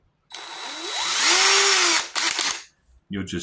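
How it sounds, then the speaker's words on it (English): An impact driver bores through a wooden 2x4 or 2x6 stud with a loud, rising whine that climbs in pitch and then cuts off. A short second burst follows, then a voice starts speaking. "drill out that hole"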